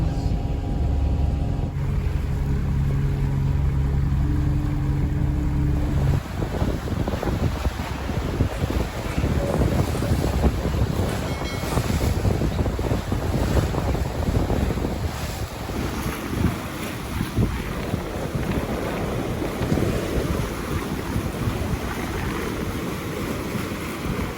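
Wind roars steadily across a racing sailboat at sea in a 7-knot breeze, sailing from Guernsey to Cowes, with water rushing past the hull; the sound is close, dense and continuous throughout.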